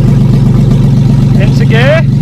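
A BMW E36 with a swapped-in M50 six-cylinder engine idles loudly and roughly right after starting, a deep steady throb close by, with a voice speaking briefly over it near the end.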